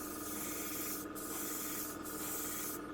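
An airbrush sprays paint onto a Revell 1/48 PBY-5 Catalina model aircraft with a continuous close hiss, briefly dipping about once a second, no voices.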